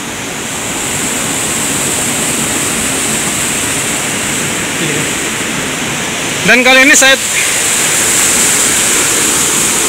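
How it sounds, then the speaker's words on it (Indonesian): Small waterfall splashing among rocks in a forest, a steady broadband rush that fills the whole clip, with a voice briefly speaking over it near the end. "kebetulan menemukan air terjun"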